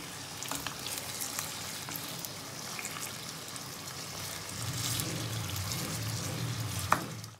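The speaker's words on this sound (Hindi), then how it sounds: "मीडियम फ्लेम पर हम चिकन को फ्राई करेंगे" Curry-cut chicken pieces frying in oil over a medium flame for chicken karahi give a continuous close crackling sizzle that swells slightly midway, ending with a sharp clink of a spoon against the pan.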